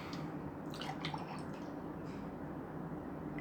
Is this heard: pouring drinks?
yes